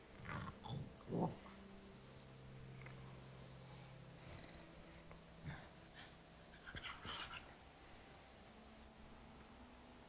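A dog moving around close by with her toy, giving soft snuffling, panting breaths and scattered quiet thumps and rustles over a low background, faint overall and with no talking.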